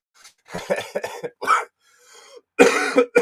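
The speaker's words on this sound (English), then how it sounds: "Still got a little bit of a tickly cough" Several raspy, tickly coughs in quick bursts, close and fairly loud, with a short gap before a final harder cough.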